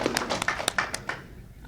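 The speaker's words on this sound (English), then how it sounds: "So we'll just give him a clap and make him feel it in the air" An audience gives faint, scattered clapping at a construction mentor-protégé program graduation, a handful of distinct claps that thin out and fade within seconds.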